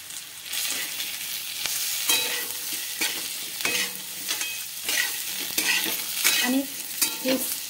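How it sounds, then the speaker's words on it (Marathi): A spoon scrapes and stirs a shahi paneer mixture frying on high flame in a pan, with constant close sizzling and rhythmic scraping strokes every second or so, no talk. "हाय फ्लेमवरच आपल्याला हे हलवत राहायचं आहे"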